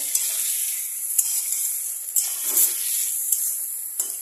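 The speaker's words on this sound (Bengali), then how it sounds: "পনিরগুলোকে আমি ভেজে নিচ্ছি ভালো করে" Paneer pieces fry in a pan of hot oil with tempering spices, giving a steady bright sizzle that runs throughout, broken by a few soft clinks and scrapes of stirring.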